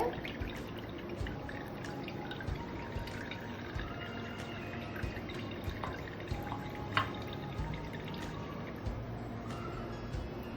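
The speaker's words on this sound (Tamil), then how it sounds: "பாருங்க எவ்வளோ வடிச்சாலும் தண்ணி வந்துட்டே இருக்கு" Water drips and trickles steadily from food draining over a vessel in a kitchen, with faint irregular drops and a soft continuous dribble under low background noise, and no talking.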